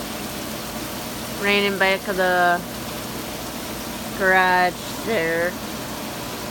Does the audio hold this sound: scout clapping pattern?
no